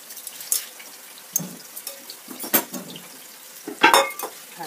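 Lamb liver and tomatoes are stirred in a pan, a spoon scraping and clinking against the cookware in short irregular strokes over a faint sizzle, with no voices.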